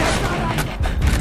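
Heavy continuous battle gunfire in Call of Duty Black Ops, a dense rumbling fusillade throughout with shouted voices mixed in.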